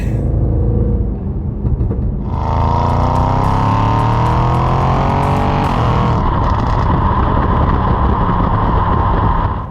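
A 730bhp Audi RS7 with a Revo Stage 2 tune and Milltek exhaust on overrun: a loud, close, rumbling engine note that swells and sweeps in pitch mid-clip, then settles into a steady burbling drone.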